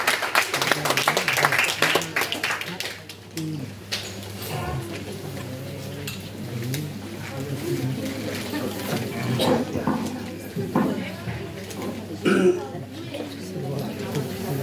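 At an inclusive poetry competition, the audience claps to welcome guest RP Singh, a brief burst of applause that quickly fades into scattered coughs, throat clearing and low chatter in the room.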